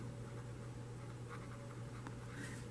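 Pen writing on a surface during a maths lesson: faint, soft scratchy strokes over a steady low hum of room noise, quiet and continuous.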